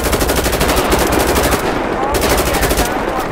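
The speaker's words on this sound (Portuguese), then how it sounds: "Metralhadora, muito boa essa metralhadora aqui." In the GTA V game, a machine gun rattles off loud, rapid bursts with a couple of short breaks, each volley a dense string of close, sharp shots.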